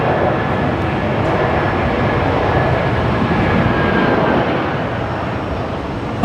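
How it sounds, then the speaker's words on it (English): Airbus A320 landing at Brisbane Airport on a rainy night with reverse thrust, a loud steady broadband jet roar holding for several seconds before easing slightly at the end. "Oh yeah, nice bit of reverse thrust action from the 320."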